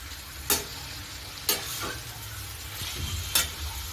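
Grated carrots for halwa roasting over a low flame, a soft continuous sizzle broken by three or four sharp spatula scrapes against the pan as they are stirred, close up and without talk.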